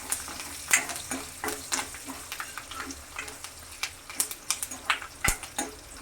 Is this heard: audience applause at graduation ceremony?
no